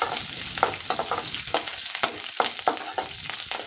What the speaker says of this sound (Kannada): ಎಲ್ಲ ಹಾಕಿ ಒಗ್ಗರಣೆ ಮಾಡ್ಕೊಂಡಿದ್ದೀನಿ